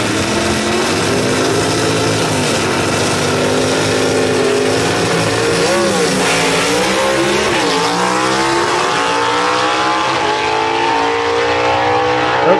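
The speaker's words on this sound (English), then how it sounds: "Daniel's out there with Kobe charging hard on the upper end, and Daniel Haynes picks up that win" Gasser drag race cars roar down the strip at Knoxville Dragway, a loud sustained engine howl with rising and falling pitch as they charge through the upper end, continuous and close.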